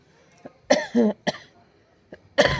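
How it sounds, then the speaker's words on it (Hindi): A few short, harsh coughs close by, separated by brief pauses, with a throat-clearing quality and no talking around them. "खांसी।"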